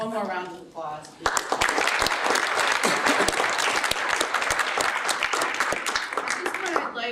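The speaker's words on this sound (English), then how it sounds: "One more round of applause" After a lecture on interreligious understanding, an audience bursts into sustained applause, dense many-handed clapping that fills the room after a brief spoken moment at the start.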